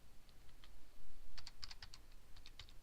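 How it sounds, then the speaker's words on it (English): Computer keyboard keys clack in short, quick taps and small bursts, close and quiet, with no one speaking. "you can simply use the plus and minus keys on your keyboard to adjust it up or down"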